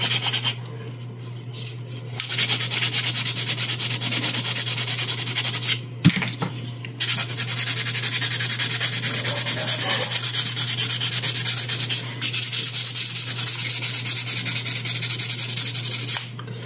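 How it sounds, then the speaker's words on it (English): Steady, loud rasping of files and sandpaper smoothing filler on a quarter-scale figure sculpt, continuous strokes close up with a couple of brief pauses and a steady hum underneath. "obviously with different grits of files and sandpaper, and sand that smooth."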